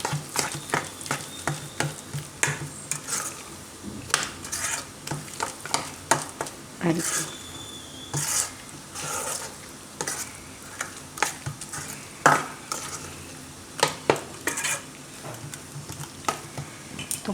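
A spoon mixes chickpea flour muthiya batter with eno and oil in a bowl, giving irregular scraping strokes and sharp clinks against the side, with a brief spoken phrase.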